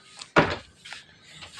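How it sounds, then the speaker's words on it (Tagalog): A door opens at home in the morning with a single sharp wooden knock or clack, followed by softer rustling and faint creaks over a quiet room. "Buksan muna natin itong pinto para maliwanag."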